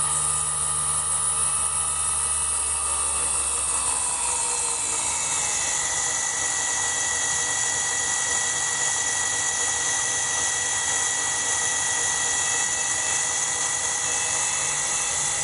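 A Grizzly G0704 mill converted to CNC, with upgraded spindle bearings, runs its spindle at about 3,000 RPM, giving a steady high-pitched whine that settles into a stable tone after a few seconds and holds loud and continuous.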